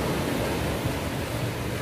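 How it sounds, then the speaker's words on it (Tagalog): Gentle sea waves wash onto Bolasi White Beach in San Fabian, Pangasinan, a calm, steady broadband rush of surf and wind with no voices heard. "hindi masyadong maalon ngayon ng dagat oh"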